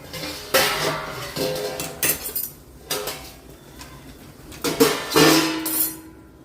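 A lid set over a pan of handvo cooking on a home stove, giving several clattering metal clinks and knocks in short bursts, close and moderately loud.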